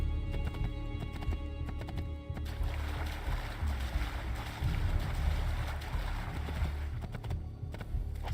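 Horse hooves clip-clopping in Assassin's Creed II, a steady rhythmic trot of hoofbeats at moderate loudness over ambient game sound, with a brief neigh and no talk.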